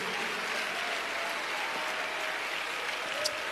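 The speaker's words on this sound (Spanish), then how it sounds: "Fuerte ese aplauso a Dios en esta noche." A congregation applauds during an evening church service, a dense, steady wash of clapping that carries at an even level throughout.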